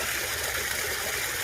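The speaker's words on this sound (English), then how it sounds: "Little waterfall." A small waterfall trickles into a backyard koi pond, giving a steady, even wash of splashing water with no break and no voices.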